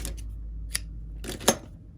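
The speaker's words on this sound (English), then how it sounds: "You can pull through and cut the yarn." Scissors snipping crochet yarn while finishing a patchwork tote bag piece: a few faint, quick, crisp clicks, two distinct snips about a second apart, close up in an otherwise quiet room.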